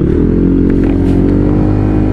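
Loud, close motorcycle engine revving hard on the road, a dense throaty roar with steady rumbling harmonics that holds throughout without pause.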